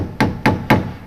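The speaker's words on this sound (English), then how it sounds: "So I'm just gonna use like a straight screwdriver, back to my hammer again." A hammer taps a straight screwdriver to bend small metal clip tabs during Miata tie rod end work: three sharp, close, evenly spaced knocks with short ringing decay between them.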